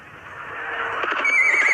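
A horse gives a single loud, close neigh that rises into a shrill, wavering whinny near the end, with faint hoof clatter beneath, short and alone without any talk.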